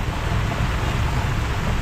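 Steady rain drumming on a car as it drives through the hills on the Nilambur road toward Kakkadampoyil, a dense, even wash of noise filling the short stretch without pause.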